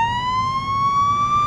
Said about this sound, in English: There you go, siren.